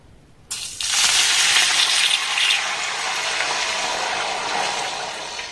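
Water poured from a bowl into a hot pan of coconut pitha mixture gives a sudden loud rushing hiss and sizzle, close by, that stays steady as a frying fizz for several seconds, with no talk.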